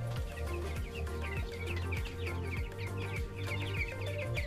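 Broiler chickens about 45 days old cluck steadily in a farm house, a dense flock chorus of overlapping calls with rhythmic low thumps throughout, fairly close and continuous with no talking.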